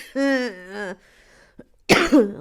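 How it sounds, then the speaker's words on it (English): Someone speaks in a sustained sung or drawn-out voice, then after a pause gives a couple of harsh, close coughs. "Oh dear, that brought on a coughing fit"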